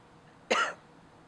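One short, sharp cough from a person, close by, against a quiet background.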